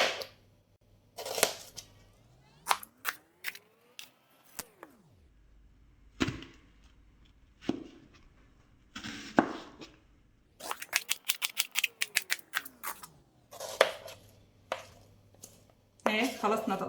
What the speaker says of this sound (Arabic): هلا نحن بدنا نقطع البصل، رح نقطعهم هيك.